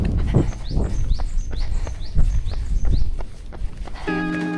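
Songbirds chirp repeatedly along a cherry blossom running route on a spring island path, bright short calls over the steady rustle and footfalls of a runner, with a brief tonal sound at the end.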